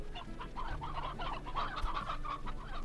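A rooster in the ranching game Slime Rancher clucks in a steady, low run of short calls, close and moderately loud, over a soft background bed of game ambience.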